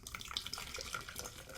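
Safeway key lime carbonated water poured into a glass, a steady fizzy splashing stream running close and continuous for a moment with no talking.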